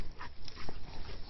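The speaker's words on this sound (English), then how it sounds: "Got both the dogs." Dogs at a dog daycare and home boarding service give a short burst of whimpers and yips, close and fairly loud, over roughly a second.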